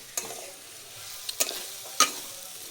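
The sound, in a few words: onions being stirred and fried in a pan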